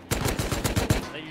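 In a Rust video game skirmish at a gas station, a burst of about six rapid gunshots fires in an even rhythm, loud and close, then stops abruptly, with no voices over the shots.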